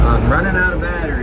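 A White 2-150 tractor engine runs just after starting, a close, steady low rumble with an uneven, wavering tone and some wind buffeting.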